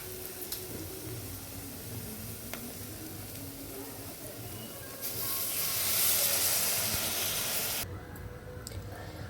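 Tamarind juice is poured into hot oil with fried masala, setting off a loud rush of hissing sizzle that swells for a few seconds and then settles back to a faint simmer, close and without talk.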